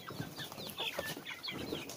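Arab chickens, including a rooster, in a converted duck coop raising about a hundred birds, cluck and murmur softly throughout amid a busy, continuous farmyard bustle.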